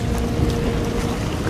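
A fishing boat running at sea off Vung Tau, its engine giving a dense, loud, continuous rumble mixed with wind buffeting, with no voices.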